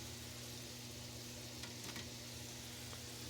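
Fondant potatoes frying in a cast iron skillet on a stovetop, giving an even, close sizzle with a couple of brief utensil clicks and no talking.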